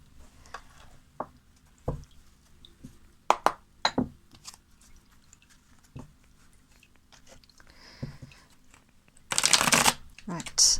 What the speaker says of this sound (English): you're not sitting watching me shuffle through a card deck